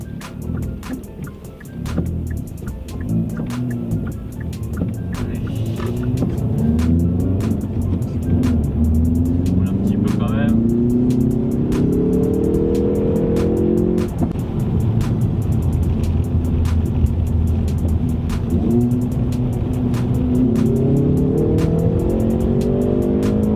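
Hyundai i30N Performance engine pulling hard from inside the car, revs climbing in long sweeps with brief drops at each upshift, loud and continuous with sharp ticking pops overhead.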